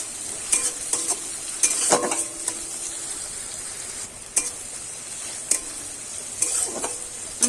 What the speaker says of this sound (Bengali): এবার সবকিছু আমি ভালো করে ভেজে নেব।